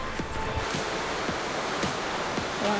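A waterfall pours in a steady, dense rush of white noise, fairly close and unbroken throughout, with a few faint clicks and rustles on top and no talking.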